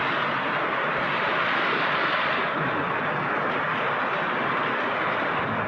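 Heavy rain pours down in a dense, steady roar, continuous and loud without letup.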